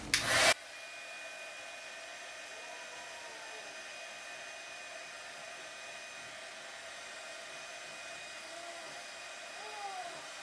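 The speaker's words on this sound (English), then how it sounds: "I just have my little heat gun here." A small heat gun shrinking a shrink-wrap lid onto a bottle of homemade vanilla extract blows a steady, even airflow hum, preceded by a short loud burst at the start.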